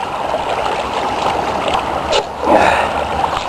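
Water flows steadily through a hand-fed gold sluice on a beach as mined gravel is dumped in, a continuous rushing wash with a brief louder splash and gush near the end.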